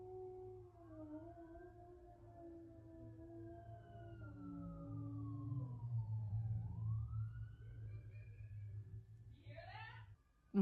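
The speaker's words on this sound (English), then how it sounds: "Oh, here comes some more sirens." Emergency vehicle sirens wail and sweep in long rising and falling tones, faint and somewhat distant as they pass, with a low rumble beneath and a brief higher warble near the end.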